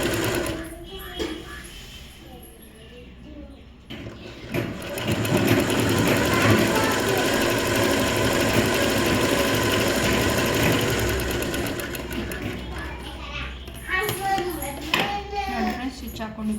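A sewing machine stitches a plain blouse in a long, loud continuous run of rapid whirring, preceded and followed by shorter bursts, with someone speaking around it.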